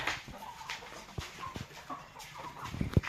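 Scattered soft clucks from chickens nearby, with a few sharper calls near the end and some background rustling.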